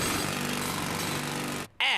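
Loud, steady rattling power-tool noise at a construction site runs for about a second and a half, then cuts off briefly before another harsh burst begins.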